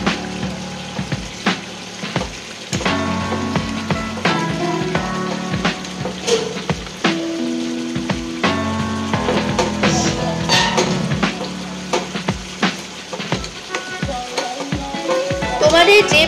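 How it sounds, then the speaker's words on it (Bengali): Pieces of fish in curry sizzle and crackle steadily in a pan while being turned, with scraping and clinking of a utensil against the cookware. "এখানে দেখো মাছটাকে আমরা উল্টে দিচ্ছি"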